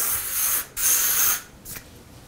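Three short hissing bursts of aerosol spray, the first two longer and close, the last brief and softer, with quiet pauses between.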